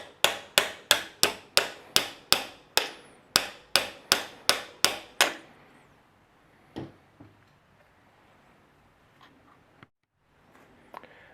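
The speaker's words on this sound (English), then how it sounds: "and we drive that out the same way that we drove out the hammer pin." A steel punch is hammered to drive the trigger pin out of an AR-15 lower receiver: about sixteen sharp, evenly spaced metallic taps in quick rhythm, close and loud, followed by a few faint clicks and handling noises in near-quiet.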